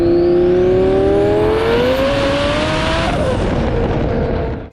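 Twin-turbo Lamborghini engine screaming on a dyno, a loud continuous wail climbing steadily in pitch through the run, then easing and cutting off abruptly at the end.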